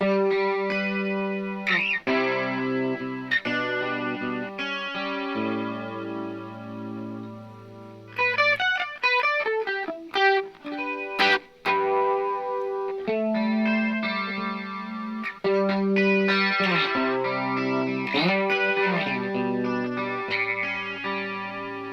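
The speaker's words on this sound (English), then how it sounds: "I have the Rockman set up as that classic, really compressed chorus Rockman sound" Electric guitar played through a Rockman unit set to a heavily compressed chorus tone, feeding a Bluesbreaker pedal, with sustained chords and melodic runs that sound clean and shimmering, steady and close with no voices.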